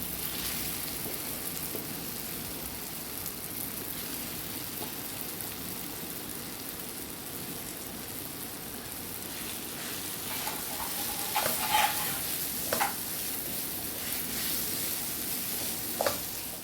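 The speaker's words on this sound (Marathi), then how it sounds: "हे बघा, आलू आणि केळाचं हे मिश्रण घालून घेते याच्यामध्ये" Mashed potato and raw banana mixture going into a pan and being stirred, a soft continuous sizzle and scraping with a few louder spoon knocks near the end; no talking.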